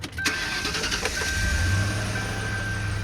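A Ford Panther platform car cranks briefly and catches, its engine then settling into a steady, close, cold idle with a faint whine on top.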